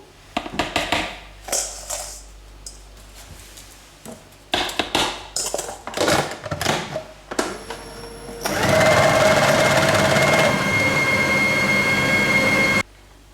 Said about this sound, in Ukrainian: П'ять наших білків збиваємо.